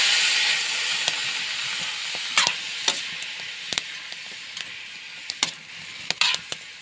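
Bamboo shoots (labong) boil in a pot, giving a steady bubbling hiss with scattered sharp pops and clicks, close and moderately loud, with no talking.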